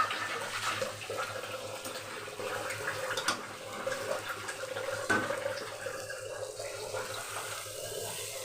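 Rinsing water from the pan used to fry prawns is poured into a wok holding the prawns, giving a soft, steady watery splash and trickle at low level throughout, with faint clinks of cookware.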